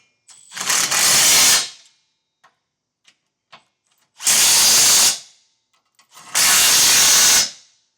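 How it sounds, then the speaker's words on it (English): A 19mm socket driven by a power tool tightening trailer hitch hardware on a 2025 Nissan Frontier, three loud whirring bursts of about a second each, close up, separated by small clicks and taps. "we'll take our 19mm socket and get our hardware tightened down"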